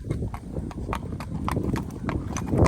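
Hooves of a six-year-old quarter horse gelding clip-clop in a steady, close walking rhythm, with faint voices in the background.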